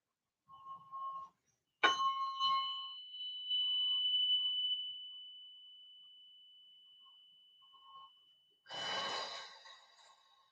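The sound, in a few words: tuning fork ringing during biofield tuning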